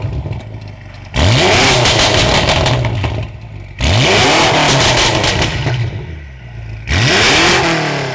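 A BMW M5 with an FI exhaust revs hard three times, each loud rising blip dropping back to a rumbling idle with crackles, close by.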